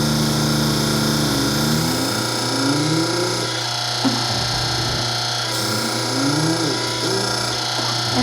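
Potter USA electric hydraulic press pressing the ends of a bracelet cuff, its motor humming steadily and close, with rising and falling whine as the ram presses and releases several times.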